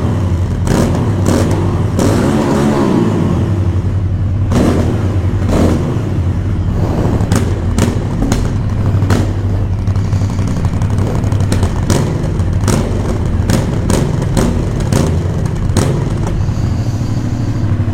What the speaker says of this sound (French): le son de cette Aprilia Shiver 900 en bridé A2